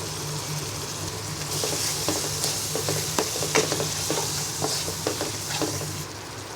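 Spice masala for a shol fish masala bhuna being stirred and sautéed in a pan, a steady sizzle with repeated scraping strokes of a spoon through the thick paste, close and continuous.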